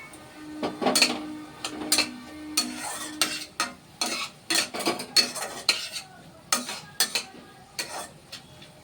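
Prawns and mushrooms stirred in a pan, with repeated metallic scrapes and clinks of a utensil against the pan in an irregular rhythm, close and fairly clear, no talking.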